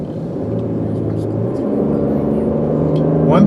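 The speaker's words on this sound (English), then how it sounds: "when you hit the gas, you will hear the engine" A 2020 Buick Enclave SUV engine rising under acceleration, heard from inside the cabin as a steady, loud rumble and whir that climbs gradually in pitch and strength.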